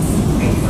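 A light rail transit train on a line running from Baclaran rumbles loudly and steadily, its low rolling drone filling the whole brief moment without any clear voices.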